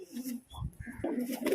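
Pigeons cooing, with soft low throaty coos mixed among nearby voices of people talking.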